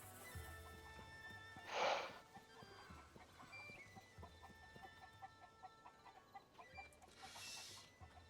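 Chickens cluck in the game Zelda: Tears of the Kingdom, a short louder squawk burst early and softer clucks scattered through a busy in-game background.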